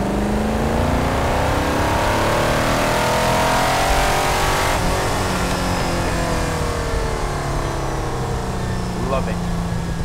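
A restored 1960s Aston Martin DBS V8 revs loudly and close, engine pitch swelling and falling in repeated sweeps, with someone talking over it.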